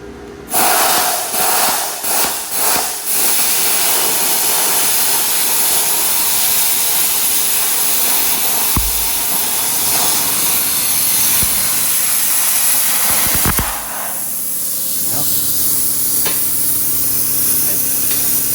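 Loud, continuous hissing roar of a hand plasma cutter slicing stainless steel exhaust pipe, steady for most of the clip with a few brief pops and sputters.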